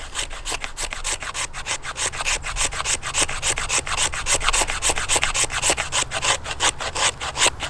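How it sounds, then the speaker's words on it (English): A knife spine scrapes wood shavings in rapid rhythmic strokes, a steady close-up rasping scrape repeating many times without pause, dry and fairly loud. "And this spine is excellent. It's doing a really good job, as you can see, of making quick shavings."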